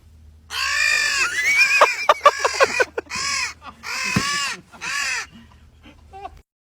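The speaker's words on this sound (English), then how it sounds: "Turn that crow on, Corey." A crow caws loudly and close in a series of about eight harsh, drawn-out calls, some run together and some separated by short pauses, before falling silent.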